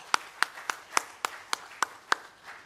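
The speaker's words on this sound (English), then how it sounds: "Let's give them a big round of applause" Scattered, slow claps from a small audience at a ladies' meeting greet a ukulele group, about nine sharp separate claps spaced evenly and fairly quiet, with no voices over them.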